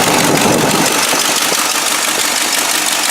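A Buick engine idles with a leaking exhaust manifold gasket, a loud, close, continuous rumble with a rough, puffing character and no voices.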